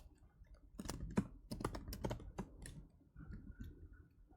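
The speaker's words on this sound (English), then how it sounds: "My keyboard's a little sticky." Rapid typing on a sticky computer keyboard, a close, dense run of uneven key clicks and clacks that thins out toward the end, with no talking.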